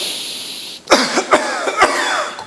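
A few sharp, deliberately forced coughs in quick succession, close by, after a brief stretch of background hiss.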